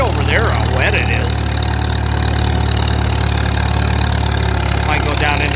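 Farmall M tractor engine running steadily at half throttle in fourth gear while cultimulching a wet food plot, a loud continuous low chugging drone throughout, with faint voice-like sounds over it.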